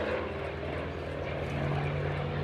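A Hawker Fury FB.11 piston-engine fighter at an airshow drones steadily with a deep, sustained engine roar, moderately distant and unbroken.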